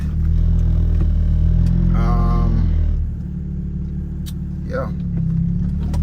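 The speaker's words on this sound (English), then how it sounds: "So this is a POV cam of me driving in the Bronx." A manual-transmission car drives through Bronx city streets, its engine a loud, close, low rumble that eases off partway through, with a short spoken word and faint traffic noises above it.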